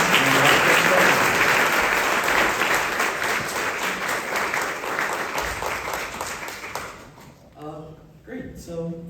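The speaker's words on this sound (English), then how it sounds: "a big round of applause for everyone who came out tonight" An audience at a candidates night applauds everyone who came out: dense, loud clapping that gradually thins and fades, followed by a few scattered claps and a brief voice near the end.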